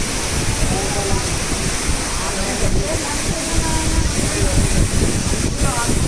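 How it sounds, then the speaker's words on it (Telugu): Overflowing water rushes down in a steady, loud roar like a waterfall, constant and close, with a voice talking over the noise. "గైస్ వాటర్ ఓవర్ ఫ్లో అయ్యి ఇలా వస్తుంది మనకి"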